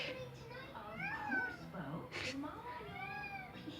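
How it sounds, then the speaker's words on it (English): A pet cat meows indoors, several drawn-out, wavering cries close by, with a person talking over and between them. "Braveheart is thinking hard too. I don't know if you guys have met Braveheart. My cat"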